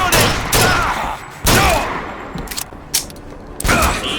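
Heavy gunfire in the BioShock Infinite video game, loud irregular blasts and bursts of shots spaced across a few seconds, each booming then fading.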